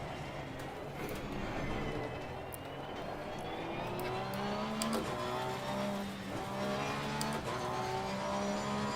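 Race car engines in the Assetto Corsa Competizione racing game at Monza, with rising and falling engine tones as cars close in and pass, steady and fairly loud throughout with no talk.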